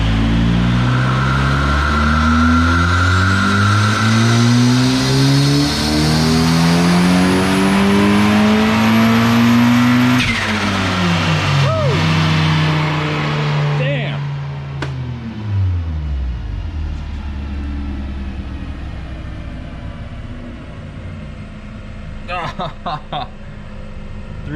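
Turbocharged Mazda Miata engine on a dynamometer pull, a loud rising rev climbing steadily for about ten seconds before abruptly cutting out, then dropping into a lower rumble and idle.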